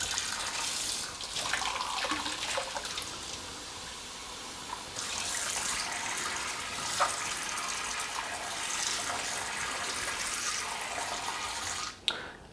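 Water from a tap runs steadily while sausage casings for brats are rinsed, a close continuous splashing hiss that shifts as the flow is moved, ending with a brief clunk.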